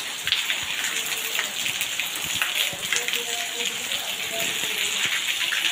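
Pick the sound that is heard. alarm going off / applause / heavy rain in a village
heavy rain in a village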